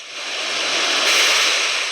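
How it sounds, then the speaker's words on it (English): Ocean swell from a distant storm, a broad steady rush of surf swelling slightly louder midway, continuous and fairly loud, with no voices. "Even on calm days, it is possible to get big waves, as these ones have been generated in a storm somewhere else some time ago."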